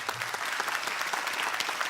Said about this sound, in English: A round of applause for Gail.